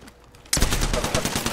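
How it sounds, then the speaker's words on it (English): Apex Legends gunfire bursts in sharply after a moment of near quiet, then keeps going as a dense, loud rattle of rapid shots with steady punchy pulses. "I'm getting shot at."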